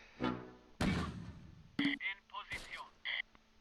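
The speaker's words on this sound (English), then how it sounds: "More mortars are dropping" Mortar shells land and burst in the World War II strategy game Close Combat, a handful of separate thumps and crackling explosions spaced irregularly over a few seconds, mixed with short electronic game tones.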